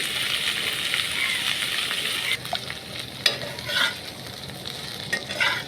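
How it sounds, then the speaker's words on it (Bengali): Pointed gourd peels fry in a pan for a dried-fish mash, producing a dense, continuous sizzle with occasional stirring scrapes, heard up close and without talk. "আপনারা চেষ্টা করবেন ভর্তা করতে গেলে পটলের চোচাটাকে একটু সুন্দর করে ভেজে নেওয়ার"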